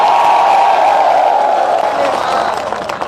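A crowd at a political road show in Chachoura, Madhya Pradesh claps and cheers in a dense, loud roar that holds steady then eases slightly, with a voice faintly audible under it.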